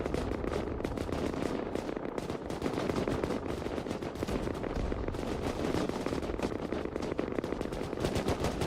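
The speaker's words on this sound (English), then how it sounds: "So much firing going down." Dense rapid gunfire in a naval battle in the video game Rust, near-continuous machine-gun bursts layered with overlapping shots, loud and relentless throughout with no pauses.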